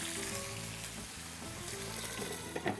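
Chicken malai tikka kebabs fry in a pan, giving a steady close sizzle that runs the whole time, with a tonal background layer underneath.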